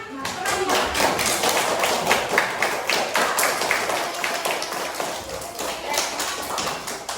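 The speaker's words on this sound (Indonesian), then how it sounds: "Silakan tepuk tangan" Dense, continuous clapping and tapping fill a school classroom during a lesson, a busy clatter of many hands at steady loudness, with a few voices mixed in underneath.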